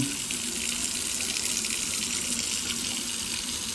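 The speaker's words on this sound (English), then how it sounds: "turned on the water" Water runs from a newly replaced tap into a sink, a steady, loud, close splashing gush that stays even throughout with no talk.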